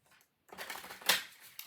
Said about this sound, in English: I'm actually going to do a riffle shuffle for you.